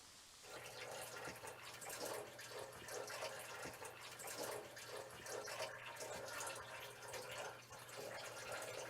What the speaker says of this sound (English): Richard, do you hear the faucet running?